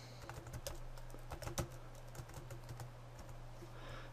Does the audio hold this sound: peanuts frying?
no